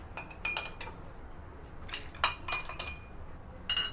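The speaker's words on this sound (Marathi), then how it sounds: "इथे एका ग्लासामध्ये आपल्याला बर्फाचे खडे घ्यायचे चार" Several sharp clinks and clatters of four ice cubes hitting a glass, in short bursts spaced across a few seconds, close and fairly clear with no talking.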